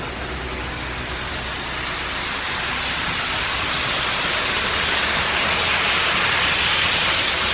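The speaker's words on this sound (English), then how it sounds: "We're pouring some cement." Cement pours from a cement truck on a cold day at a building site, a steady, loud rushing wash that swells gradually over several seconds with no talk.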